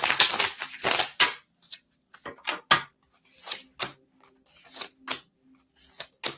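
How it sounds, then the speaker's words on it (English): A deck of oracle cards is shuffled by hand nearby, giving irregular bursts of crisp riffling and slapping clicks separated by brief pauses, with no voices. "One more shuffle."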